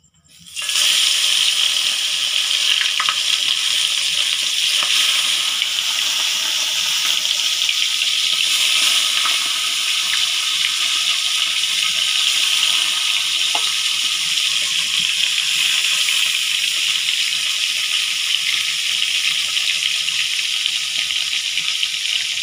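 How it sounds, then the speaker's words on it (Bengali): Parshe fish frying in hot oil: a sudden burst of loud sizzling as the fish go in, then a steady, close, bright crackling hiss that continues unbroken for over twenty seconds, with no speech. "আমার তেলটা গরম হয়ে গেছে খুব ভালোভাবেই। এখন আমি মাছগুলো দিয়ে দেব।"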